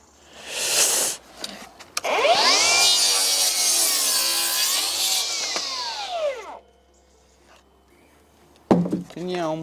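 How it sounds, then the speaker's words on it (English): A power saw cuts a 20-degree angle off the top of timber during a UK house extension build. It gives one loud, sustained whine of about four seconds, close by, with brief voices before and after the cut. "So we're cutting the 20-degree angle off the top"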